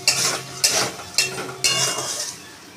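Potatoes frying with salt and turmeric in oil in a pan, a steady close sizzle broken by four sharp scrapes and clinks of a utensil stirring against the pan.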